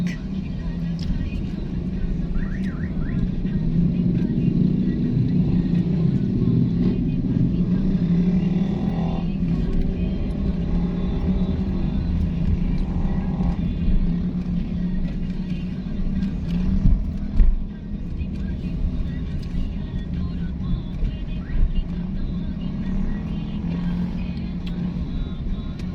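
Heavy road traffic crawling through Apalit, Pampanga, Philippines: a steady low rumble of idling and slowly moving engines, with vehicles passing close by and occasional brief knocks and clunks along the way.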